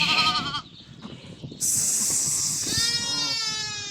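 Pregnant first-lamb ewes bleat loudly at close range, with a few long wavering calls separated by brief quiet gaps.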